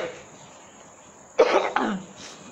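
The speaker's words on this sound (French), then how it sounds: "Oh, pourquoi je tousse là?" A man coughs twice in quick succession, a sharp first cough followed by a second, loud and close, after a quiet stretch with a faint steady hum, during a French-language sermon.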